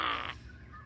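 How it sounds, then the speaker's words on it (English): Crows cawing loudly in the Australian bush, a harsh burst of calls up close that cuts off after a moment, leaving other birds chattering faintly in the background. "All the birds seem to have woken up and decided to shout just as I went live."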